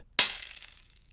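A mirror cracks and shatters in a single sharp burst of breaking glass, followed by a short tinkling, decaying tail, heard alone and up close.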